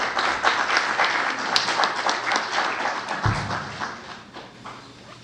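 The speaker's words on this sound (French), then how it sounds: "James Noël, sous vos applaudissements." Applause from an audience, a dense steady patter of many hands clapping that holds throughout, with no voices above it.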